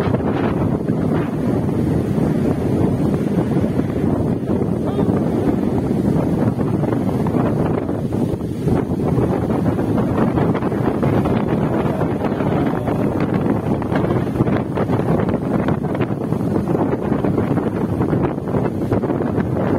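Strong wind roars steadily across a reservoir during fishing at Jatiluhur, a dense, buffeting rush with microphone wind noise and possible water slapping, continuous and loud throughout with no talk.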